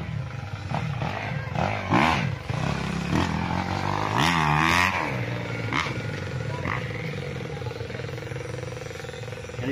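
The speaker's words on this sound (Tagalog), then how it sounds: "dinig na dinig dito ang andar ng mga motor" Motocross motorcycles rev near a rural farm lot beside a road, their engines rising and falling in several growling bursts. The loudest surge comes midway, and a steady engine hum continues underneath.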